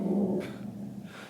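Pet dogs at home growl and grumble close by, a steady low snarl that eases off after a moment, with a brief higher yip near the end.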